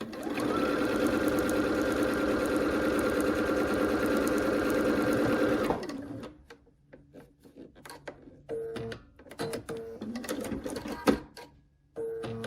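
A sewing machine stitches quilt block sections for a Bear Paws in the Snow quilt, running loud and steady for about six seconds, then falling to quiet handling noises with brief clicks and short stitching bursts.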